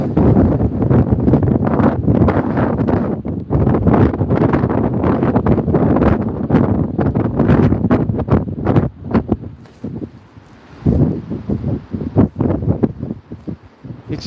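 Strong wind on a windy day in northern Sweden roars across the microphone in loud continuous gusts, easing briefly near the end before buffeting again.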